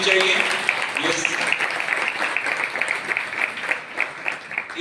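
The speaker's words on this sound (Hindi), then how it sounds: "फिनिशिंग स्कूल की इन बेटियों के लिए एक बार जोरदार तालियां होनी चाहिए।" An auditorium audience applauds finishing school students at an annual programme, a dense, loud burst of clapping that holds steady for several seconds and then thins slightly toward the end.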